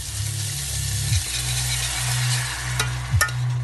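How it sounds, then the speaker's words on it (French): Potatoes, onion, shallot and garlic sizzle in a pan as a little water is added, a loud close hiss with two sharp scraping stirs, no talk. "Je vais mouiller avec un petit fond d'eau, mais vraiment un fond léger"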